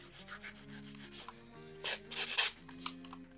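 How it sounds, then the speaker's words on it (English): Acrylic pink-and-white competition nail being filed, short rhythmic rasping strokes in quick bursts, close and fairly quiet, over a soft musical background. "Look under the nail to see if you can continue filing"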